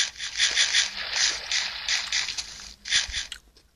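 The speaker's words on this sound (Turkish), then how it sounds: "Hayvan şapırdatma." Rhythmic, wet crunching chews of an animal eating a carrot in Minecraft Pocket Edition, repeating in quick bursts, loud and close, with a short pause before a final few bites.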